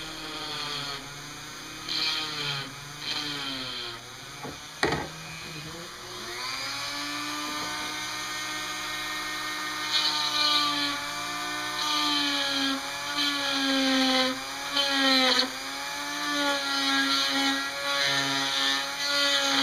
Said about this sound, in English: Got the little drill bit in the Dremel